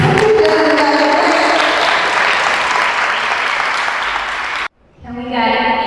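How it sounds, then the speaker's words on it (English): An audience applauds at the Queen City Pitch Competition, loud sustained clapping with voices mixed in, cutting off abruptly near the end before music comes in. "we got a very, very big round of applause"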